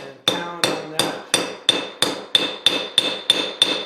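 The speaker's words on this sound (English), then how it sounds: "I'm just going to put that on the edge of the vise here and pound on that" A hammer pounds a threaded rod laid on the edge of a vise to flatten its threads, eleven loud ringing metallic blows at a steady, slightly quickening pace, each with a bright lingering ring.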